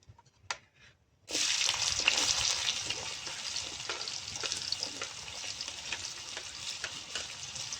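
Chopped onions hit hot oil already tempered with cumin and a pinch of asafoetida, for a raw green tomato sabzi. A few soft taps, then a sudden loud, close sizzle that keeps crackling steadily and eases slightly, with faint stirring.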